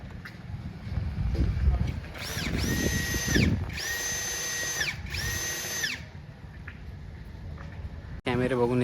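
Power drill boring mounting holes for cameras, three short whining bursts of about a second each in quick succession, near and fairly loud, over background voices and clatter.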